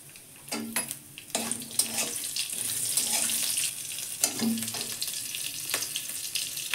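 Green chilies and five-spice seeds tempering in hot oil, a bright crackling sizzle broken by sharp spatters and scraping stirs, close and fairly loud with no speech.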